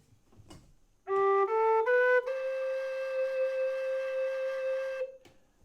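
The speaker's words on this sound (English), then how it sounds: "Most people from all the discussion boards I've read default to the second and third hole on a D whistle for the C natural." A D tin whistle sounds C natural with the second and third holes covered, a single clear sustained tone after a short run of quick stepping notes, held alone and close for several seconds.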